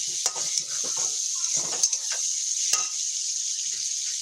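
Onions sauté in a pan with a bright, constant sizzle while a utensil clinks and scrapes against the metal in short bursts.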